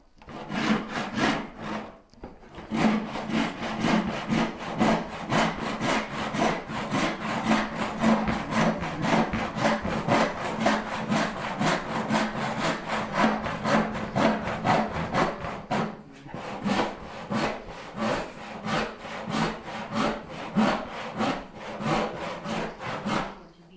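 Turning bow saw, not yet sharpened, cutting through a thick piece of wood: continuous rhythmic rasping strokes over about twenty seconds, close and loud, with two brief pauses between runs of sawing.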